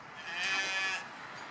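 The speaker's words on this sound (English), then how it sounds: "We've hand-reared these lambs" Hand-reared lambs give a single short, fairly close bleat, with no other sound around it.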